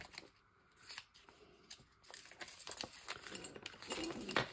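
Scissors snip repeatedly through paper while numbers are cut out, a close, quiet run of crisp crunching cuts and rustles with no talking.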